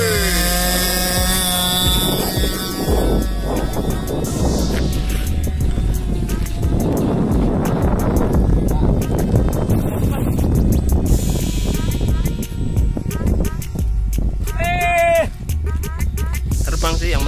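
Yellow RC model airplane on its maiden flight, its small motor whining and buzzing at varying pitch as it passes near and loud, with voices talking throughout.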